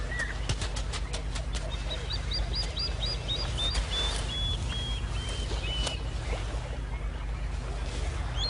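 Noisy plovers at a ground-nesting site near crocodile nests, mobbing a raiding monitor lizard, give a steady run of sharp, repeated chirping calls over a constant low rumble of wind or water.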